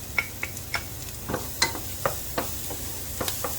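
Minced garlic and onion sizzle in a pot under a steady frying hiss, punctuated by sharp clicks and taps of a spoon stirring against the pot.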